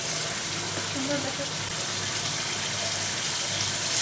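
Chicken meat hits a pan of fried ground spice paste for a Bengali chicken curry, giving a steady, fairly close sizzle and hiss that runs evenly throughout with no other sound.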